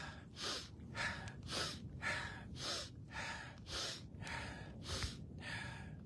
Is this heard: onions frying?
no